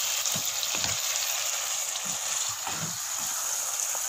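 Vegetable soup with potato being stirred in a pot, a soft steady bubbling hiss with a few low sloshing swirls of the spoon, close and continuous.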